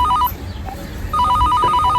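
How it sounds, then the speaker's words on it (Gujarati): A telephone rings in two bursts of electronic trilling, loud and close, a short ring followed by a pause and then a longer ring over a low background hum. "ફોન આવ્યો"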